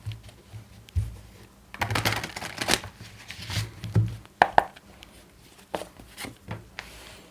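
Tarot cards shuffled by hand: close, dry flicking and riffling bursts with a few sharper slaps and pauses between handfuls, no talking.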